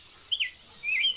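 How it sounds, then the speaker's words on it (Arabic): Two short, bright bird chirps, a fraction of a second apart, faint and alone against a quiet background. "تزرع هنا أنواع مختلفة من الطيور."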